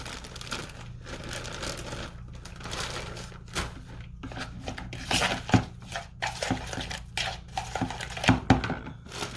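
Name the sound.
mixing shredded green cabbage into a dish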